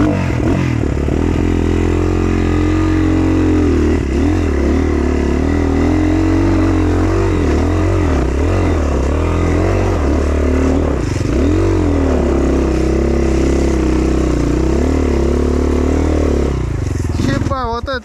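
A loud, close enduro motorcycle engine revs hard and steadily for the whole stretch, its pitch rising and falling with each throttle blip during an off-road ride.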